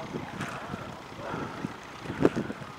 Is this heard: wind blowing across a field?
yes